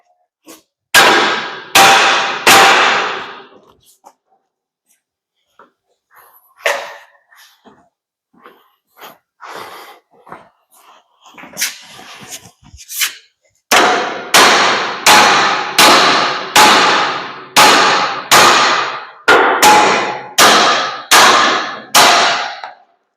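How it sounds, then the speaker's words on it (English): Loud metallic clanging hammer blows strike a stuck axle on a gooseneck trailer, first three quick hits, then scattered knocks and rattles, then a steady series of about ten ringing strikes. "Give it a few hits with a hammer because it's clearly stuck."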